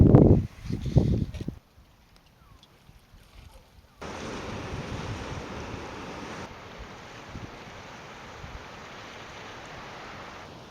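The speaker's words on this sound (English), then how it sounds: "it is just amazing to be down here by the shoreline" Waves wash onto a West Kerry shoreline, a steady broadband roar of surf that is soft at first, then fuller and constant, with wind buffeting the microphone at the start.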